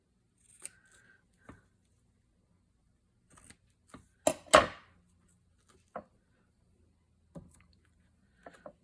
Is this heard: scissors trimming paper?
yes